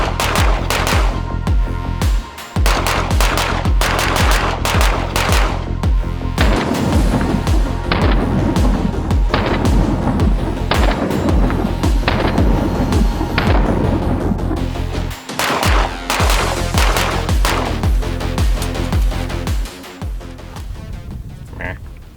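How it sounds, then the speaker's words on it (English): Pistol topped with a Primary Arms red dot sight fires in a dense string of loud, sharp shots that run almost without pause for about twenty seconds, with a brief gap near the middle and a quieter tail. "we are about that point where you probably want to see a little bit more shooting footage"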